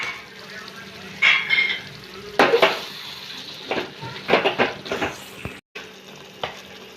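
Bitter gourd curry frying in a pan, with intermittent scraping stir strokes and soft clinks over a low steady sizzle, close by.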